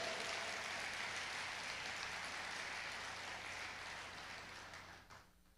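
Sustained church applause fills the room evenly, a dense wash of many hands clapping at moderate distance that holds steady and then fades out near the end, with no voices over it.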